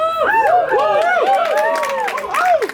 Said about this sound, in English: crazy crowd. I've never seen this many people in one room.